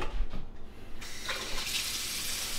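A tap switches on and runs steadily into a sink or basin holding detergent, ready for washing a bonnet by hand. The water gives a constant, close hiss after a few faint clunks.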